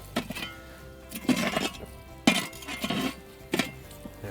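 Hot coals are scraped off the lid of a camp oven, a series of irregular metallic scrapes and clinks in short bursts, fairly close and moderately loud, with no talking.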